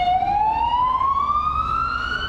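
A Milwaukee fire engine's siren wails as it pulls out of the fire station, a loud single rising tone sweeping steadily upward and sustained throughout with no talk.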